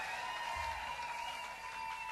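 Thin, tired applause from a concert audience at a live rock show in Berlin, a faint, steady patter of clapping heard at a distance.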